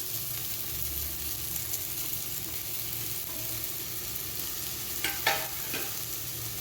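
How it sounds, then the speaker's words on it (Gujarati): Sprouted mung beans tipped into softened tomatoes frying in a pan, a steady low sizzle running throughout with a few sharp scraping stirs near the end, close and moderately loud with no talk. "હવે આપણે તેની અંદર ફણગાવેલા મગને નાખી દઈશું."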